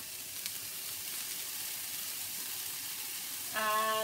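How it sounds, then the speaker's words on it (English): Garlic and ginger hit a hot pan and sizzle steadily and up close, with a short tonal sound near the end. "Putting in the garlic, that garlic and ginger."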